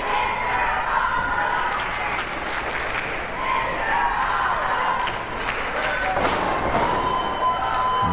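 A wrestling crowd cheers and applauds steadily throughout a three-way TV championship match, a dense wash of crowd noise with a commentator talking over it.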